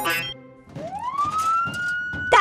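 A cartoon emergency siren gives a nee-naw wail, one long tone sliding upward and then holding steady, fairly loud against busy background sound, then cut off by a sharp clatter.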